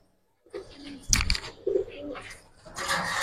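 Giribaz pigeons in a loft give soft, low coos in short bursts, mixed with rustling and handling noise and a brief murmur of voices nearby.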